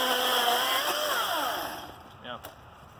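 A Milwaukee cordless chainsaw runs close by, its smooth motor whine rising and falling in pitch for a couple of seconds before tapering off into quieter background.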